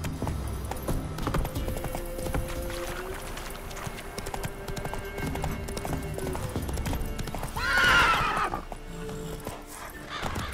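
A horse gallops in the video game The Witcher 3: Wild Hunt, its hooves drumming in a steady rhythm under game music and effects. A loud, close whinny breaks out near the end.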